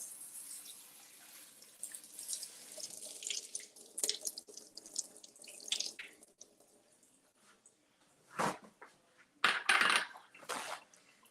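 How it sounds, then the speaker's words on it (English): Blueberries are rinsed under a running kitchen tap, soft splashing water with intermittent louder bursts and spatters as the stream hits the fruit and sink, close and fairly quiet with no speech. "Just going to rinse these off really quick."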